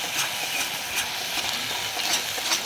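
Onion paste and ginger-garlic paste fry in a pan while being stirred, giving a soft, continuous hiss with light scraping strokes recurring every half second or so.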